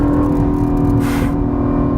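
A 2017 Acura NSX sports car under hard acceleration, with a loud, steady engine drone and a strong low rumble, briefly rising in the middle, heard close from inside the cabin with no talk.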